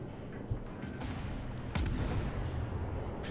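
Naval gunfire in the World of Warships video game, with a couple of deep booming shots over a constant low rumble of battle.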